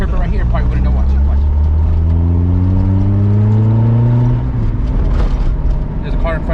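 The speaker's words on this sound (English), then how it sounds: "I was gonna try to chirp second gear" A car with a swapped Honda B16A engine accelerates hard, its loud, close engine note climbing steadily in pitch, then dropping and rising again as it shifts into the next gear.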